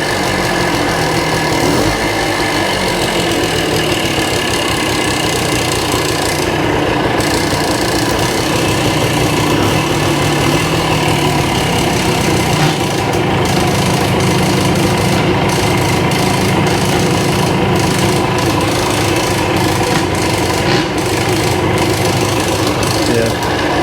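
The engine of a 1965 Montgomery Wards Benelli scrambler motorcycle runs steadily and loudly up close, holding a rough, even idle throughout.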